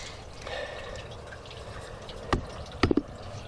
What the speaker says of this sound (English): Oh, hang on a minute, there's a drip there, look.